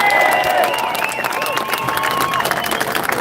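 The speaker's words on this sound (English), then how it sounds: "Can I get a round of applause for them?" A crowd at an outdoor nationalist rally in Waterford claps and cheers, a loud mix of clapping and raised voices with whistles and shouts, sustained throughout.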